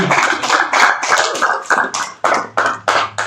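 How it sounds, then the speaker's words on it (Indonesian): A small audience at a motivational talk in a bank office applauds, the clapping coming as a run of distinct, fairly close and loud hand claps with an uneven rhythm that grows sparser toward the end. "Tepuk tangan dulu Pak Fahmi"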